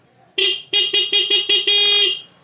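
A car horn honks repeatedly: one longer blast, five quick beeps, then a final sustained blast, loud and close.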